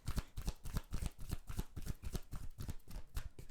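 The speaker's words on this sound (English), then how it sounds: "I don't know what is up with this deck today, but it's letting me shuffle a lot" A tarot card deck being shuffled in fast, steady riffles, each pass giving a crisp papery flutter with a soft thump, repeated continuously at close range with no talking.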